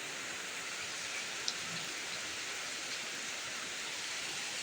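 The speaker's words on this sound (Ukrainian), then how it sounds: "То дощ" Steady rain falls with an even, soft hiss, continuous and unbroken, with no voices.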